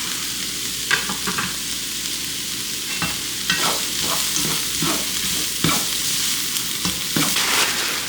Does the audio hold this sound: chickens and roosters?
no